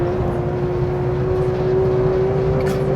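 Porsche 911 GT3 engine droning steadily and loudly from inside the car while driving, a sustained even hum with no breaks.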